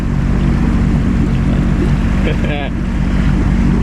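A Sea-Doo Wake 170 personal watercraft gives a loud, continuous engine and exhaust roar with wind and water rush throughout, steady and close, with a brief whistling rise near the end.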